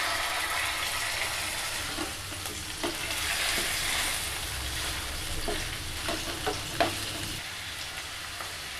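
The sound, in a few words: chicken frying in oil in a pan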